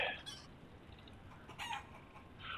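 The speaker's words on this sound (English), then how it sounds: "There's a chicken roost right up here on top." Chickens cluck and a rooster crows at a chicken roost in the Lord of the Rings Online video game, faint scattered calls over a quiet background.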